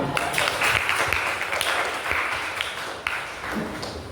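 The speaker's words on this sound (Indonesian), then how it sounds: "Tepuk tangan, tepuk tangan." An audience claps in a room, loose uneven hand claps with some sharper individual smacks, moderately loud and scattered rather than a full ovation.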